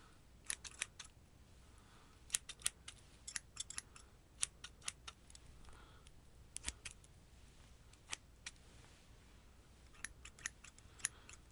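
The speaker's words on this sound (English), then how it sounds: "A little snip, snip." Scissors snip repeatedly in a quiet puppet-show setting, giving a string of sharp, crisp close-up cuts in irregular bursts over a near-silent background.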